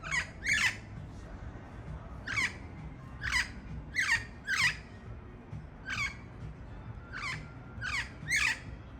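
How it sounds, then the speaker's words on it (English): Green parrots give loud, harsh squawks in repeated bursts, often in pairs, about every second or two, close by over a low background rumble. "These parrots are so loud."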